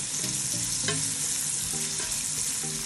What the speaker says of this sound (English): we're going to add in our meat, and then you cook them for a few minutes.